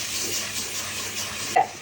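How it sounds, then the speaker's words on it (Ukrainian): Water being poured off soaked poppy seeds in a kitchen, a soft continuous trickle close by, ending in a brief clink near the end, with no talking. "Ти оцю воду хочеш злити."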